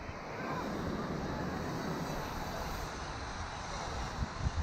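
Strong wind buffets the microphone steadily outdoors while a Parrot Mambo drone flies, a continuous broad rushing roar with no speech.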